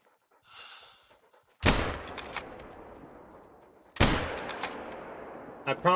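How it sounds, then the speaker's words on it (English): Two loud shotgun blasts ring out in The Hunter: Call of the Wild, spaced about two seconds apart, each a sharp crack that decays into an echoing tail across open hunting ground, with faint breathing before the first. "This was a shotgun."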